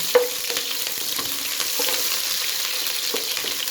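Onions sizzle and crackle steadily in hot ghee for a beef pulao, with a brief clink near the start, close and alone.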